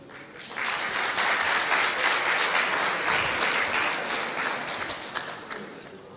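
An audience applauds at a laureates ceremony of the foreign students' community at the University of Béjaïa, welcoming the student president to speak. Dense, steady clapping builds quickly, holds strong, then gradually thins toward the end.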